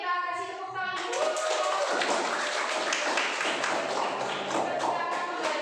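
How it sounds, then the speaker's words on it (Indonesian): A school class of children breaks into clapping after a project presentation, a dense burst of applause that runs for several seconds after a brief stretch of voices at the start. "Oke, kita kasih tepuk tangan dulu."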